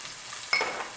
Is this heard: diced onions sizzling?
yes